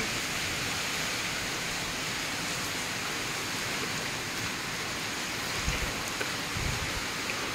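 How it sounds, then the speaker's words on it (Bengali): Steady, dense wind-driven rain hisses continuously, with a constant broadband wash and a few heavier gusts of noise near the end. "বৃষ্টির ঝাপটও আছে।"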